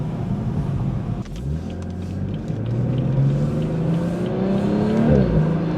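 With the window down, a BMW 440i with an MST intake pulls hard, its engine note rising in pitch through the gears, dropping at a shift, then climbing again over road noise, loud and close, no voices.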